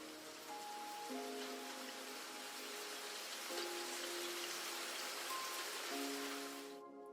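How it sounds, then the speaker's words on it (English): Steady rain patters densely on surfaces, a constant soft hiss that fills the whole stretch. Gentle melodic tones play faintly alongside it and stop just before the end. "Of course, it's rain."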